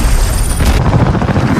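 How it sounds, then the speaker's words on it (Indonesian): A weapon fires in a war film as soldiers face a creature, letting out a loud, heavy boom with a sharp burst near the middle, followed by a rumbling roar that carries on. "mereka pun menembak senjata itu untuk pertama kalinya, dan ternyata senjata itu pun berhasil"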